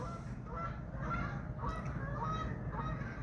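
Geese honking as they fly in off a lake, a steady series of nasal honks at moderate distance over a constant outdoor background hum.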